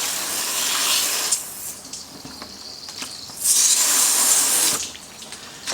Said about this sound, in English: I'm definitely going to give it a good rinse.